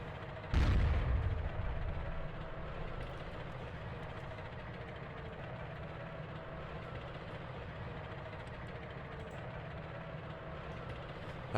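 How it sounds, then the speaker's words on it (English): Tank from the Red Crucible 2 game in a sandstorm map, a heavy sustained low engine rumble with rattling tracks, opening with a loud boom, then a steady, even drone throughout with no talking. "Can drive now with the tank to get some tank kills."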